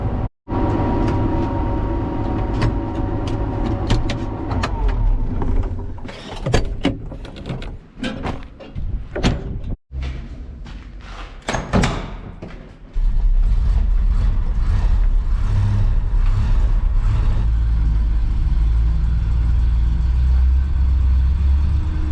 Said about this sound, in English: I'm driving the green GMC tandem truck